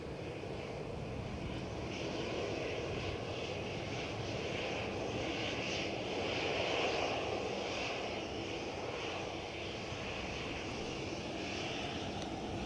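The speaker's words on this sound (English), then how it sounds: "Ryanair don't hang around, do they? Lined up, ready to go to Dublin." Ryanair airliner bound for Dublin taking off at Edinburgh Airport, a steady jet engine roar that swells slightly mid-way and stays fairly distant and even throughout.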